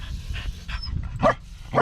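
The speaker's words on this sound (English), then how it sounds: "the Iris has been barking" A dog gives two short, close, sharp barks, spaced about half a second apart, after quieter low rumbling and faint whimpers, with no one talking.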